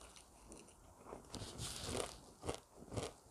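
Close, crisp crunching of stir-fried tiny dried anchovies with walnuts coated in sauce, several bites and chews in bursts, alone without talk.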